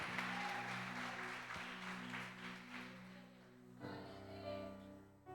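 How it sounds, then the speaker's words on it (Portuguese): Congregation applause at an Assembleia de Deus church service, a broad sustained wash of clapping over steady held organ or keyboard chords, shifting tone partway through as the music changes. "Aplaude Ele"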